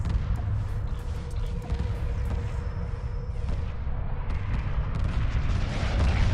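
Continuous dense barrage of booming, crackling weapon fire with deep rumble from a Homeworld space battle involving ion cannon frigates, loud and unbroken, like a sci-fi battle soundtrack.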